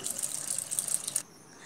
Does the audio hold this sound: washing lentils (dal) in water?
yes